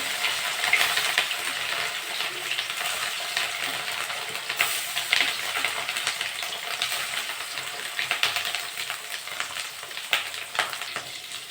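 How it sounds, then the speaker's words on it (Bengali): Pieces of rohu fish and fish roe fry in hot oil, a steady close sizzle with sharp popping spatters and crackles throughout, no voices. "বাকি মাছগুলো আমি ভেজে নেব। ডিমগুলো ভেজে নেব।"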